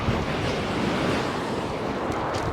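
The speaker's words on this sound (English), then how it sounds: "That wind's evil. It's coming along the beach" Strong wind blowing along Chesil Beach during beach fishing, a dense continuous roar of gusts buffeting the microphone with surf mixed in, loud and unbroken throughout.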